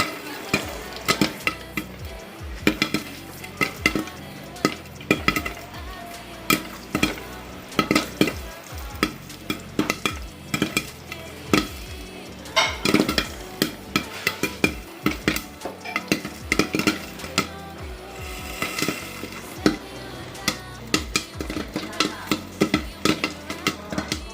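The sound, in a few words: popcorn being fried in a pan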